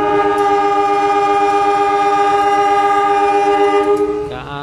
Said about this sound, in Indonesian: KA121 diberangkatkan kembali dari peron 5 stasiun besar Yogyakarta